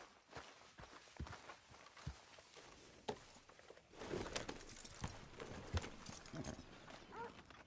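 Horse hooves clip-clop steadily as a rider moves along in Red Dead Redemption 2, a fairly quiet, rhythmic run of hoofbeats on the ground with faint ambient game sound beneath.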